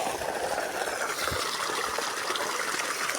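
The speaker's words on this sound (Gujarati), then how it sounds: "કુંડી આપણે જો કમ્પ્લીટ ભરાઈ ગઈ છે, ઓવરફ્લો થઈ જાય છે આ પાણી જા બારું જાય" Water gushes and overflows from a completely filled tank, a steady, dense rushing and splashing stream that stays close and even throughout.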